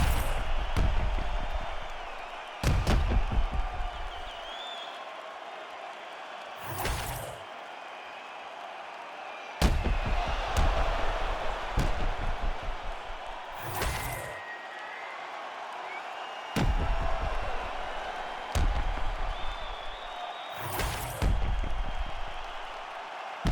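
Arena crowd at a UFC women's flyweight championship bout, cheering and applauding at the end of a five-round fight, a sustained roar of noise with loud swells breaking through in bursts.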